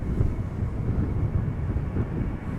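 A Ryanair jet moving at Amsterdam Schiphol Airport, heard as a steady low engine rumble at a distance, with wind noise on the microphone.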